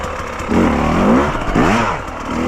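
A Fantic XE 300 dirt bike engine pulls away gently in second gear on a hard off-road track, rising in two smooth revving sweeps with some mechanical clatter, close and fairly loud.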